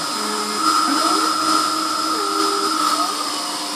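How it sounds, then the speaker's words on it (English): An Emco F1 CNC milling machine drills screw holes in a model engine backplate, giving a steady high whine with a sustained tonal hum and pitch shifts as the spindle and feed change, loud and close. "the screw holes that we're drilling now"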